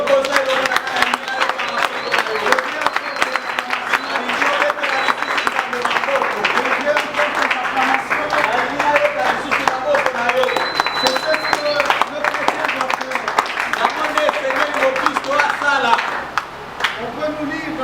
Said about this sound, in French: je veux tes acclamations.